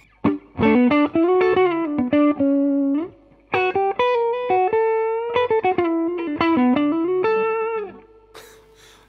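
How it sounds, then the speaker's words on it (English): An electric guitar through J Rockett Archer and Mosky Golden Horse overdrive pedals plays a run of overdriven notes and chords with a gritty, sustained tone, loud and close, with brief pauses between phrases. "I'm just going to play around with both pedals and see what sorts of tones I can come up with."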